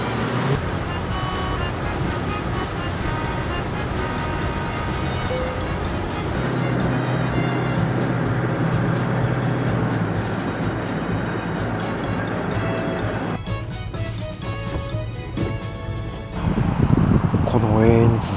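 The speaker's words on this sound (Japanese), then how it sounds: "やっぱりエンジン音が結構うるさいですね" A Toyota TownAce-based camper van's engine drones loudly and steadily while climbing a long, steep uphill expressway grade at about 80 km/h, with road and tire noise blended in and the pitch shifting as load changes.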